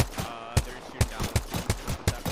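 Video game gunfire: a rapid series of sharp, close shots in an irregular burst rhythm, about eight cracks over a couple of seconds.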